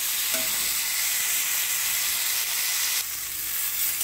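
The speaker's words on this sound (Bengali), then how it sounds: "দেখুন আলুগুলো ভাজাভাজি করছি।" Chopped onion and boiled potatoes fry in a pan, giving a steady close sizzle that runs unbroken and loud throughout, dipping slightly partway through.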